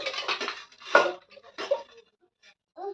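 Dishes being scrubbed and washed by hand in cold water at home, with clattering and scraping bursts of pots and utensils, near and moderately loud, broken by short pauses.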